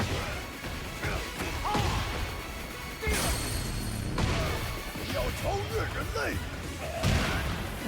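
A Tekken 8 fighting-game shockwave attack lands as heavy booming crashes and whooshing impacts, several hits spaced through the clip, loud and close, with game voices scattered between them.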